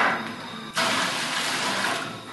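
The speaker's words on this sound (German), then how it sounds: "Dann machen wir etwa 5 Liter Wasser da rein." About five liters of hot water poured into a home brewing pot: a quiet lead-in, then a sudden steady rushing splash that continues strongly and eases slightly toward the end, with no talking.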